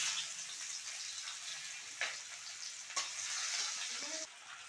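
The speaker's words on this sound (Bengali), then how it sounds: "মাছ ভাজার তেলের মধ্যে আমি অল্প পরিমাণে সর্ষের তেল দিয়ে পেঁয়াজগুলোকে দিয়ে দেব" Chopped onions fry in mustard oil added to leftover fish-frying oil, making a soft, steady sizzle with a few stirring scrapes, fairly quiet and close, without talk.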